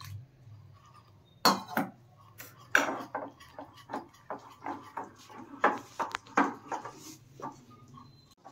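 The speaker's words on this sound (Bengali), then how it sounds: "এবার এটাকে একটু মিশিয়ে জল দিয়ে দিয়ে ব্যাটারটাকে তৈরি করতে হবে" Flour batter being mixed with water in a bowl, a spoon clinking and knocking against the vessel in an irregular run of sharp, close taps, with no talking.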